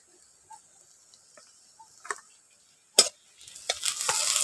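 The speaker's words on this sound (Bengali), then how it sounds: "একসঙ্গে ভালো করে নাড়াচাড়া করে ভেজে নিচ্ছি" Chopped onion, garlic, ginger and green chili are stirred in a frying pan for a soybean momo filling: faint scattered scrapes and taps at first, then sizzling frying that builds and grows louder toward the end.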